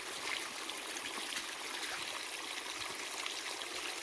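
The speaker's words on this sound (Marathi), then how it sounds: "ढगाळ वातावरणात सद्भाव सोलर पंप किती पाणी मारत आहे ते आपण पाहणार आहे." Water from a 5 HP Sadbhav solar pump outlet runs under a cloudy sky in a steady, faint hiss of flowing and splashing water with no pauses.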